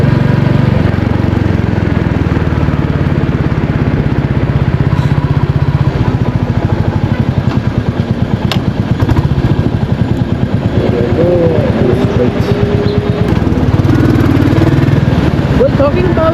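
Royal Enfield Classic 350 motorcycle on the move, its steady single-cylinder thump loud and continuous throughout with strong wind rush, mild clatter and small shifts in engine pitch.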